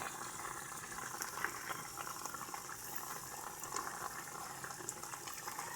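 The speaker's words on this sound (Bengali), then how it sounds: "তো দেখো কি সুন্দরভাবে এটা ফুটছে।" Mustard-poppy curry with fried fish and slit green chillies simmers in a pan, giving a faint, continuous bubbling hiss broken by small pops and sputters.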